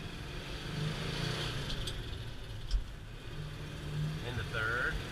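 An old truck engine pulls steadily under load in second gear, a continuous mid-pitched rumble with a brief thump partway through.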